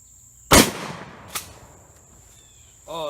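A Mossberg shotgun with a 20-inch cylinder bore barrel fires a single loud, sharp blast outdoors. A brief echo or second crack follows, then quiet.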